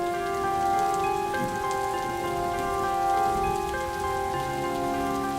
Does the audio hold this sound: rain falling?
yes